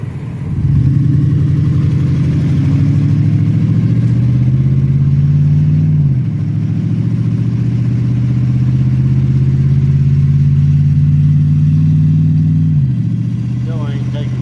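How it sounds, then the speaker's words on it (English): A car engine breaking up and not taking fuel right runs steadily near at hand, a low droning idle with two brief dips where it stumbles before recovering. "Still ain't taking fuel right. Breaking up when I was coming down on the gas."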